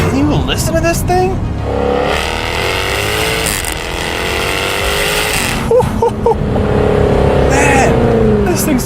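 A 575-horsepower sports car engine revs hard, rising and falling in pitch through several pulls, loud and close, with a person talking over part of it.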